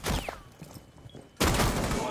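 Rainbow Six Siege gunfire cracks in sharp bursts, one burst opening the moment and a louder sustained volley arriving midway, close and harsh with a quieter gap between them.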